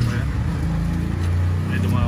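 A motor tricycle passes close by on a Filipino road, its steady low engine drone rumbling throughout, with a voice speaking over it.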